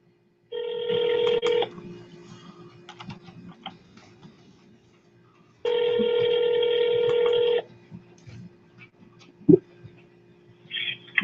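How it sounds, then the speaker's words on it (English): A telephone call rings out over the line, two long steady ring tones separated by a few seconds of quiet, followed by a brief click. "Just give John a call here"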